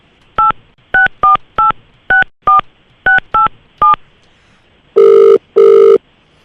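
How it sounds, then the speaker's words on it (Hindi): Telephone keypad beeps while redialing a number, nine short, distinct tones in an uneven rhythm followed by two longer, louder ringback tones, clear and close with no talking. "अब यही नंबर रीडायल कर रहा हूँ मैं"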